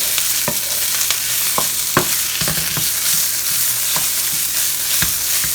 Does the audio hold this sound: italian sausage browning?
yes